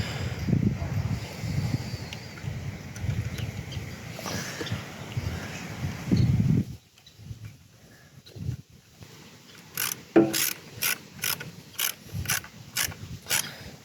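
A ratchet tightens parts on a 1994 Suzuki Katana motorcycle, a series of sharp rhythmic clicks in quick bursts toward the end, following a stretch of low rumbling handling noise and a quiet pause.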